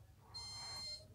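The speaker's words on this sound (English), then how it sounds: "That's beeped." A single electronic beep from an Indesit dishwasher reported as faulty, sounding briefly and fairly faintly in a quiet kitchen, a steady high tone lasting under a second.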